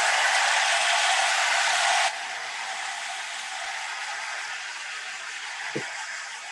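A dryer blows steadily on wet acrylic paint during a paint-night class: a close, even airy rush that drops to a softer setting after about two seconds, with one faint bump near the end.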